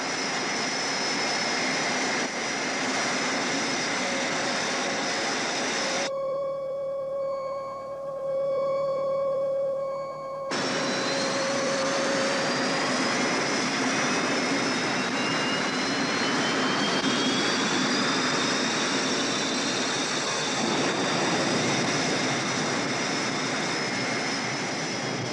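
A spaceship lifts off carrying a large rock with it, a steady broad engine roar sustained throughout, briefly dipping into a lower tonal hum mid-way before the full rushing roar returns and holds.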